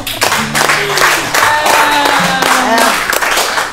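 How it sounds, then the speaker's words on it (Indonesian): An audience at a film shoot with a veteran screen actress breaks into steady applause, dense clapping carrying on for several seconds while voices speak over it. "Tepukan dulu dong."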